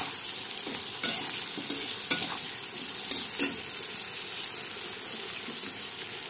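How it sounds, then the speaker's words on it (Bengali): Masala with three pieces of tomato being stirred in a frying pan, a steady hiss of frying under scattered soft scraping and clinking strokes from the spoon, close and without speech. "আর দিয়ে দেব 3 পিস টমেটো দিয়ে আমি মশলাটাকে নাড়িয়ে নেব।"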